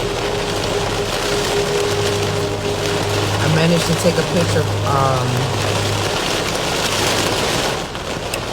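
Steady rain pours down in a dense, unbroken hiss close to the microphone, with a low hum underneath and brief faint voice-like sounds midway before the noise eases slightly at the end.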